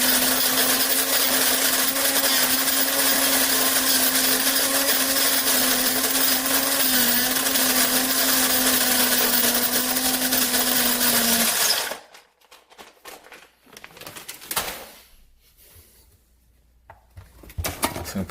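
Cuisinart electric burr coffee grinder on a medium setting grinds about four cups' worth of coffee beans with a loud, steady whine and buzz, then cuts off abruptly, leaving quiet handling noises.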